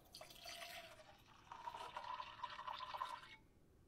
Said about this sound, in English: I'll get another beaker, and I'll pour out just the dark liquid